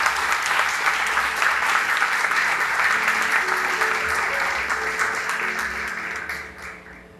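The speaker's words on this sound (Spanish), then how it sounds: "¿No se merece un aplauso ese hombre?" Audience applause at a church youth gathering, loud sustained clapping from a large crowd filling the room for several seconds before thinning out and fading at the end.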